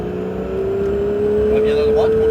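A Porsche 911 GT3 on the Mireval race circuit accelerates, its engine note climbing steadily in pitch from inside the car, while a person talks over it.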